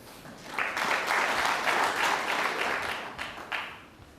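Snooker crowd at the 2020 World Championship final applauding, a dense burst of clapping that swells quickly, holds steady, then tapers off near the end.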